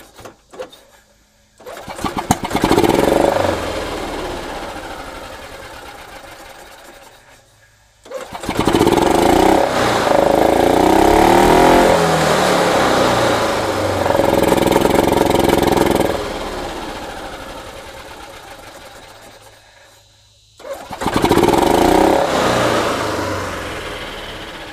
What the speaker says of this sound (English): that starter kicks in every time now